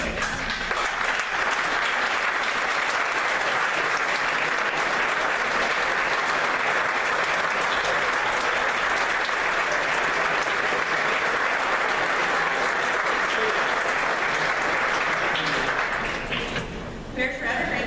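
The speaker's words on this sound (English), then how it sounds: "I would like the senior class to please stand and give a round of applause for our amazing players" Senior class standing to applaud the players at a 2015 senior awards ceremony; a long, loud, unbroken round of crowd clapping that holds steady before easing slightly at the end.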